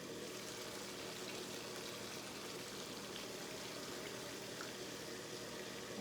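Water pours steadily into a chicken karahi pot, a continuous soft splashing stream that stays even and faint throughout with no talking.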